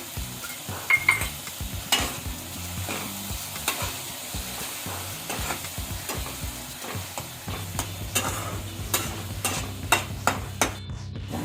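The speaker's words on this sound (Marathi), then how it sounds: "आता आपण भेंडी टाकून घेऊया. बघा, चांगलं हलवून घेऊया." Okra goes into a curd gravy with onion-tomato masala in a pan for dahi bhindi and is stirred vigorously, with repeated close scrapes and clacks of a spoon against the pan over a steady sizzle.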